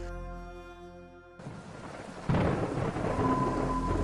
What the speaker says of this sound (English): The thunder roared and the heavy downpour began.